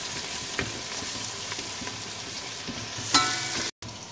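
Minced garlic and fresh ginger sizzle steadily in a hot pan for a spiced Indian biryani, with a few soft stirring scrapes and a brief clatter near the end before a sudden cut.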